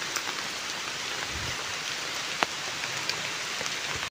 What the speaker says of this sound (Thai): ฝนก็ตกมาเลยพี่น้อง